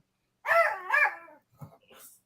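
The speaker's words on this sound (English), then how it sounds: "My dog is acting crazy." A dog named Truck barks indoors in two loud, close bursts, followed by a few softer yips and whines trailing off.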